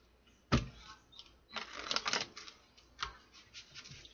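Tarot cards being shuffled by hand, a sharp papery riffle followed by a few softer, scattered flicks and slides, close and quiet with no talking.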